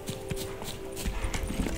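Horse hooves clip-clopping at a steady trot while riding in The Witcher 3: Wild Hunt, a continuous rhythmic beat under a game ambience hum, close and moderately loud.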